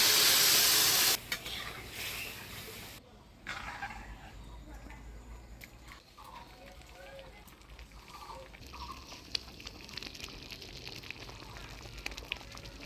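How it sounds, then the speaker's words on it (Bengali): Boiled lentils and prawns go into a hot cooking pan with a loud burst of sizzling, then settle into a quieter hiss as a spoon stirs and scrapes the mixture. "এবার ফুটিয়ে রাখা ডাল, চিংড়ি মাছ দিয়ে দেব।"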